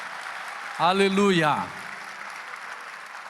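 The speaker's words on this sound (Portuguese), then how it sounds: "Então aplauda Jesus bem forte, vamos ver." Church congregation applauding through a worship service, steady broadband clapping running the whole time beneath a loud voice that calls out briefly in the middle.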